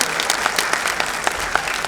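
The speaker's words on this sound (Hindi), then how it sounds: "तालियां बहुत जरूरी हैं" Audience applause at the Dadasaheb Phalke Award 2017 ceremony, a dense steady wash of many hands clapping with a few sharper claps standing out, continuous for a couple of seconds.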